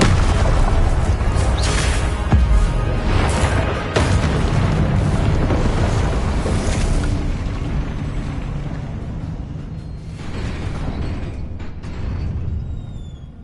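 Loud, rumbling explosions from the Confringo spell in Hogwarts Legacy, several heavy booming blasts in close succession that roll into a dense, sustained roar before tailing off, with no talk.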